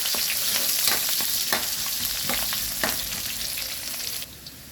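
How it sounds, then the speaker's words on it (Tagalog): Garlic fries in a hot pan with a loud, steady sizzle, close and continuous, broken by brief crackles and stirring scrapes, and no one speaks. "Lagay ko na ang bawang."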